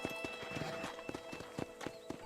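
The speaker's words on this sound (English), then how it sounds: "Yay, more horse riding." Horse hooves clip-clop at a steady gallop rhythm while riding in the Red Dead Redemption video game, close and moderately loud over a faint background bed.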